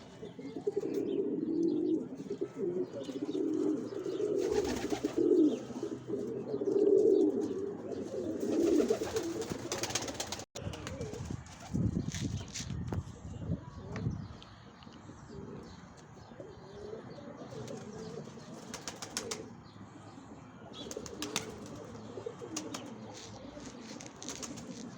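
Pigeons coo steadily in a loft, low rolling calls repeating close by with a few chirps and brief wing flutters, a dense overlapping chorus that thins slightly midway.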